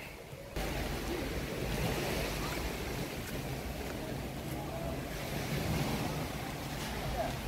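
Surf rolls onto the beach at Unawatuna in southern Sri Lanka, a steady, fairly quiet wash of breaking waves mixed with wind rumbling on the microphone, continuous with no talk.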